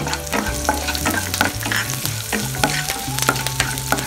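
Curry leaves with green and red chillies crackle loudly in hot oil for a rava idli tempering. The vigorous sizzle is up close, with tonal background music running underneath.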